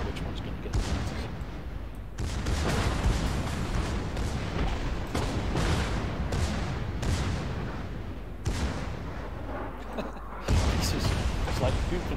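Naval guns in World of Warships fire a broadside: heavy booming salvos and rumbling blasts roll in repeated waves, loud and continuous, while someone talks over the battle.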